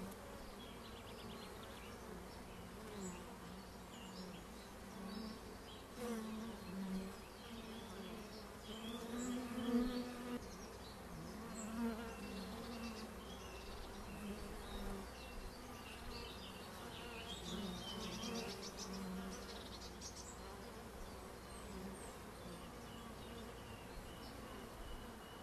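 Honey bees buzz steadily in a dense, continuous hum as a frame sits in the hive during queen introduction on emerging brood, the drone holding at a fairly even level throughout.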